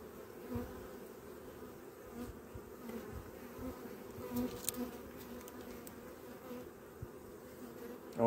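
Honeybees hum steadily from an opened coastal beehive where brood is exposed and a young bee is emerging, a close, even drone with no talk over it.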